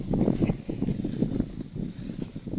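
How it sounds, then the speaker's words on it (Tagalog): Strong, steady wind roars and buffets the microphone in low rumbling gusts over a rice field, loud and close, with no one speaking. "Ayun o, lakas ng hangin."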